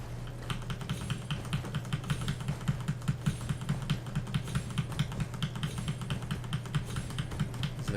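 Computer keyboard keys tapped steadily during an Elden Ring session, a quick, even run of close clicks with soft thuds, no talking.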